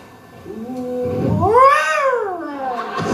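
A person's voice imitates a cat, rising into a long, wavering meow that swells loud in the middle and trails off.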